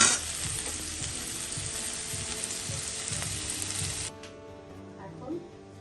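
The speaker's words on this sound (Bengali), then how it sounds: "মিষ্টি কুমড়ো কাঁঠাল বিচি ফ্রাই হয়ে গেছে" Pumpkin pieces and boiled jackfruit seeds frying in oil in a pan, a loud steady sizzle with stirring scrapes, cutting off abruptly near the end to a quieter background.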